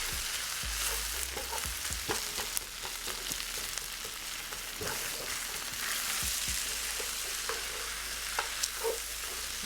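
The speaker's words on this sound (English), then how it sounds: "Now I'm going to add the egg right in. Mix it up together." Egg is stirred into shrimp and crab fried rice in a hot pan, with a steady loud sizzle broken by repeated scraping and tossing strokes of a utensil, and no voices.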